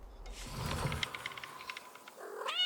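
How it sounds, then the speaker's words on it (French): Cat on a terrace giving a faint, drawn-out meow and caterwaul with soft rustling around it, quiet and close, a short wavering cry rising at the end. "il y a un chat sur la terrasse"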